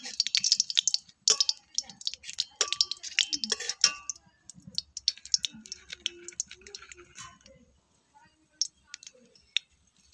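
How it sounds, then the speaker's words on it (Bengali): Bay leaves and whole garam masala tempering in hot oil: crisp, rapid crackles and pops burst loudly at first, then thin out into sparse, scattered clicks and sizzles, with a voice speaking over them. "তেলটা ভালো করে গরম করে নিয়ে এবার আমি এর মধ্যে দিয়ে দিচ্ছি তেজপাতা, আর দিয়ে দিচ্ছি গোটা গরম মশলা"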